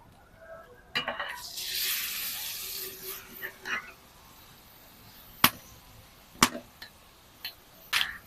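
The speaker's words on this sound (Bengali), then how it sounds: "তেলটা গরম হয়ে গেছে এবার দিয়ে দিচ্ছি আমলা" Amla goes into hot oil, raising a sudden hiss and sizzle that fades over a couple of seconds, followed by scattered sharp clinks of utensils against a pan.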